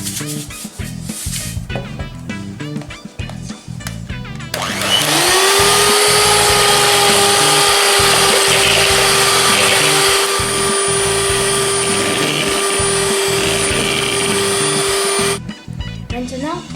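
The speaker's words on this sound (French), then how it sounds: "on va venir battre les blancs d'œufs en neige" An electric mixer whips egg whites with a pinch of salt into stiff peaks. Its loud steady whine runs for about ten seconds, with shorter bursts of beating and clatter before and after.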